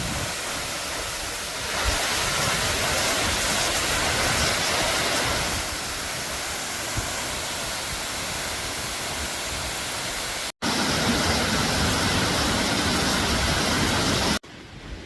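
Steady roar of Denny Cove Falls, a waterfall with wind blowing its spray back, heard as a dense continuous wash of water noise with wind buffeting, nearly unbroken apart from a momentary dropout near the end.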